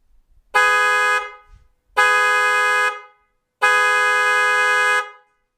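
A freshly mounted set of aftermarket car horns on a JDM TE-V conversion, before the nose clip goes on, sounds three loud, steady honks of roughly a second each, with short gaps between them.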